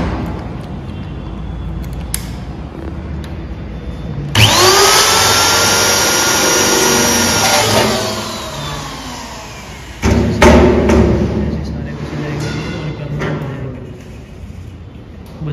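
Loud power-tool whine driving fastener bolts into a modular school desk bench, one long sustained run followed by a shorter burst, close and steady with workshop clatter around it.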